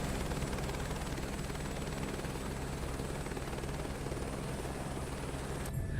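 A simulated helicopter's rotor and engine in Flight Simulator 2024, a continuous loud low thrumming chop with a steady whine above it, unbroken and with no voices.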